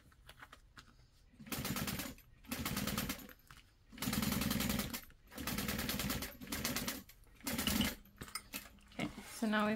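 A sewing machine top stitching thick vinyl in several bursts of rapid mechanical whirring separated by short pauses, close and clear, with quiet handling noises between runs.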